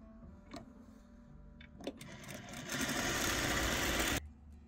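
A sewing machine stitches a quilt block seam: quiet handling and a few clicks give way to a steady, close, whirring run of stitching for about a second and a half that stops abruptly, with no voices.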